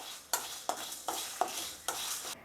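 Coriander and cumin dry-roasting in a pan are stirred in about five regular scraping strokes, each a short rustling sweep, close and fairly quiet with no talk.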